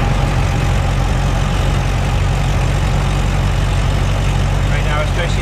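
A 1928 Dodge engine labours as it struggles to accelerate up a small hill in heavy gear, giving a steady, loud low rumble with constant road and wind noise throughout, no voices heard.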